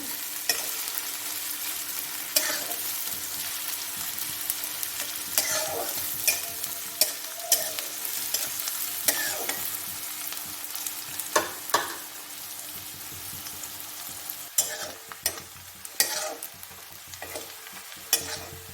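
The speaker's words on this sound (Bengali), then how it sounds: "পেঁয়াজটা আধ ভাজা হয়ে এসছে" Onions sizzle in a pan at a steady low hiss while a utensil scrapes and stirs them in irregular strokes, sharp scraping bursts rising above the frying every few seconds, with no talking.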